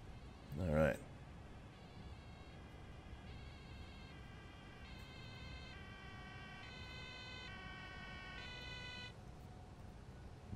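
An ambulance siren from a video game wails in a steady, stepped electronic tone for about eight seconds, preceded by a brief loud burst, with a low rumbling background underneath.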